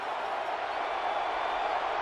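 A stadium crowd at a USC vs Notre Dame football game roars steadily in support of the defense on third and short, a dense, continuous wash of cheering with no breaks.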